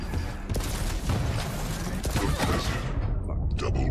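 Chaotic Quake Champions weapon fire pounds in quick, overlapping shots and blasts, loud and continuous, with a brief quieter gap toward the end.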